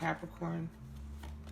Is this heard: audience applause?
no